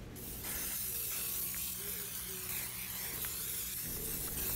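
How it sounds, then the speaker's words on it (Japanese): Waterproof spray hissing steadily from an aerosol can onto New Balance MGS574 golf shoes, one continuous close spray lasting several seconds after a short quiet start. "乾いた後はこれ、防水スプレーを吹きつけて今後の汚れを防いでいきます。"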